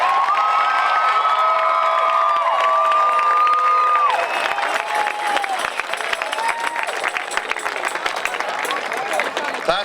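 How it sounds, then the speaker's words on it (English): A graduation crowd claps and cheers, loud and close, with high whoops and shouts standing out early before the cheering thins into dense clapping and scattered yells. "How about we give them a round of applause?"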